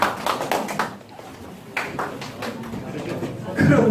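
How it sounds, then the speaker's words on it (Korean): A group of people in a training session clapping their hands as they sit down: a quick burst of close claps at the start, then scattered softer claps, with someone speaking over them. "박수 치면서 자리에 앉습니다."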